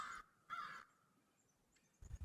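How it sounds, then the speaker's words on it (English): Crows caw overhead on a frigid morning around minus 14 with wind chill, two harsh calls in quick succession followed by a short third burst, faint and distant, with no voices. "There's some crows flying overhead."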